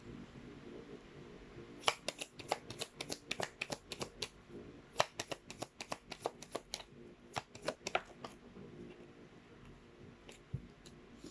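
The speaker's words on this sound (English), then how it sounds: "let's try to pull up more cards here" Tarot cards being shuffled and drawn, a quick run of crisp riffling flicks and light snaps that come in bursts, close and fairly quiet, with no talking.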